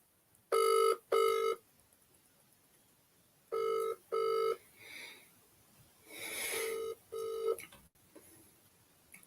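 Telephone ringing in repeated double-burst electronic rings, two pairs clearly and a later pair partly blended with other tones, fairly close with quiet gaps between.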